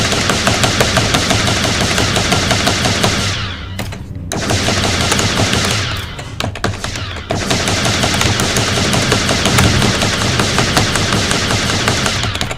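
Sustained automatic gunfire from a gun in an Unreal Engine 5 game prototype, loud and continuous rapid shots with two short pauses before the firing resumes and keeps going to the end.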